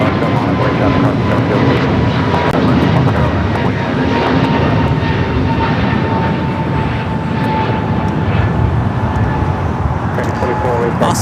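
An airliner takes off from runway 25 right at LAX, its engines holding a loud, continuous roar throughout, with faint voices underneath.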